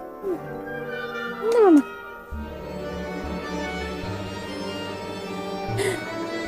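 A domestic cat meows indoors: first a short chirp-like call, then a longer meow that rises and falls, both close and fairly loud, before a steady murmur of background sound takes over.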